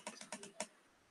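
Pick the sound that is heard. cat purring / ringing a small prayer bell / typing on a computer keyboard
typing on a computer keyboard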